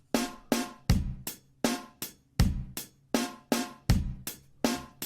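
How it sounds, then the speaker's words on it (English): Step-sequenced twist drum beat with snare on two, four and the and of two, under steady hi-hats and kick, looping crisply and evenly with no voices. "this is sometimes called a twist beat"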